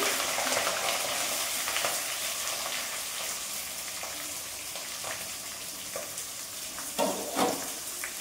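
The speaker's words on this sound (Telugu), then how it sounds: "రెండు కరివేపాకు రబ్బలు, ఉల్లిపాయలు వేస్తున్నాను" Curry leaves and onions fry in hot oil in a pan for a Tirupati-style chicken curry, giving a steady, hissing sizzle throughout, with a couple of louder spits and stirring scrapes near the end.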